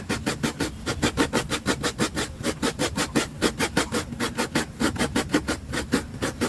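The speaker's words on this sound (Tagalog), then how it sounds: "yung apat na niyog, kayurin natin yan" Four coconuts scraped on a grater, their meat rasped off in fast, steady back-and-forth strokes that repeat about three times a second, close and fairly loud, with no talking.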